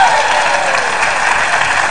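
Studio audience applause at an Indonesian evening talk show, a dense, steady wash of clapping that fills the whole stretch, loud and close, with a voice speaking over it.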